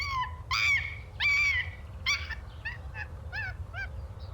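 In the 1995 adventure game Gabriel Knight 2, an animal in the background lets out a series of hooting, honking calls, several longer cries followed by shorter rhythmic yelps over a low steady hum.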